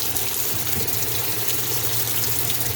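Washing machine beginning its cleaning cycle with vinegar and baking soda, water rushing steadily into the drum in a loud, close, continuous gush with no voices.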